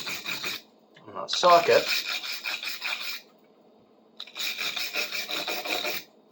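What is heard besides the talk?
brushing rust off a metal socket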